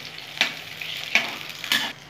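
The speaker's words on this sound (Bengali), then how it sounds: "ভেজে বেগুনগুলো তুলে রাখবো।" Eggplant slices fry in hot oil, a steady soft sizzle with three brief sharper crackles or stirring clicks spaced across the clip, no voices.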